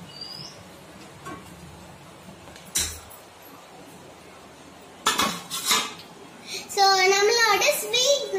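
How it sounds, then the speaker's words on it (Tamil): Homemade bread is moved onto a plate, with a few sharp clinks of cutlery and dishes, first sparse, then a brief flurry, followed by someone talking near the end. "இப்ப நம்ம வந்து பிளேட்ல மாத்திக்கலாம்"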